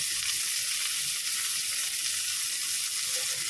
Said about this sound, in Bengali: উচ্ছেটা গোল গোল করে কেটে নিয়েছি লাল লাল করে মচমচে করে ভাজবো